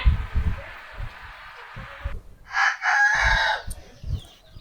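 Chickens and a rooster in a poultry farm shed: a rooster crows loud and close midway, with low clucking and scattered bird noises around it and brief human voice sounds.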